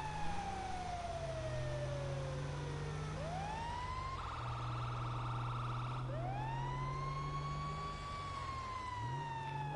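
A fire truck siren in the GTA video game wails loudly and continuously, sweeping up and down in pitch with a steady engine rumble beneath it and no talk.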